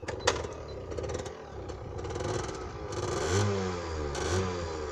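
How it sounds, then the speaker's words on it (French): A 50 cc motorbike engine revs up and down with rising pitch sweeps, fairly close and loud, with some clattering noise at the start. "Je vous propose de vous faire écouter un tout petit peu le bruit"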